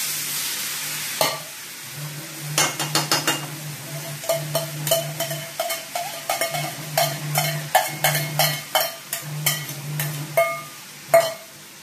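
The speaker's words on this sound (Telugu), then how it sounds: "పోపు అయిపోయింది. ఇప్పుడు క్యాబేజీ వేసింది." Shredded cabbage is stirred into a hot tempering of oil and spices for an Andhra-style cabbage dal curry. A low sizzle runs under regular, sharp clanking strokes of a ladle against the pan. Close and alone, with no talk.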